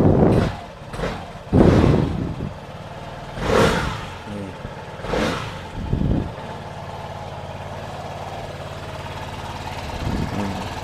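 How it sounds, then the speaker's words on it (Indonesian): A Vespa Sprint 3V automatic scooter engine runs close by, revving in several rough bursts before settling into a steady, slightly uneven idle. "Untuk suara mesinnya tuh Vespa kayak gini"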